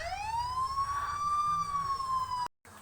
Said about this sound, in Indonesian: Tadi soalnya udah ada bunyi sirene lagi.